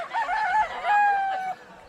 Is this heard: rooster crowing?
yes